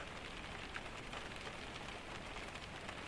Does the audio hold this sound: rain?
yes